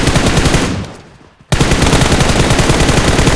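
Sustained automatic gunfire from PUBG Mobile, loud and continuous, briefly dropping away before another burst resumes at full intensity; no talk over it.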